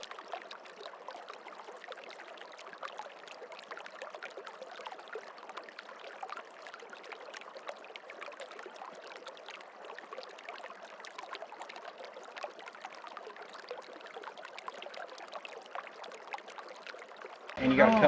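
A gently flowing creek in a shady wilderness spot makes a steady, soft trickling and babbling wash that runs evenly throughout, with a brief louder rustle right at the end.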